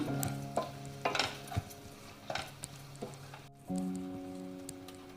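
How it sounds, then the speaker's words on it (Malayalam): Chopped tomato being sautéed in a pan while fish biryani is prepared, with a spoon stirring and scraping in repeated strokes over a low, steady sizzle close by. No one speaks. "എല്ലാം കൂടി നന്നായിട്ടൊന്ന് വഴറ്റി കൊടുക്കണം."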